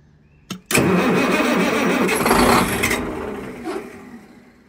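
An engine on a utility unit bought at auction cranks and catches, roaring to life after a short click, then settling into a loud, rough running drone that slowly eases in level.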